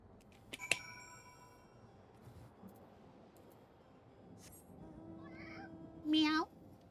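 A single short cat meow from Final Fantasy XIV rises and falls near the end, after a brief bright chime and a quiet, mostly empty stretch.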